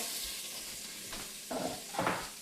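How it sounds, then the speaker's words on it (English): Onion cooks slowly in a pan for Mexican black bean soup, giving a steady soft sizzle with a few scraping stirs partway through, close by and without talk. "cook the onion so it's nice and translucent"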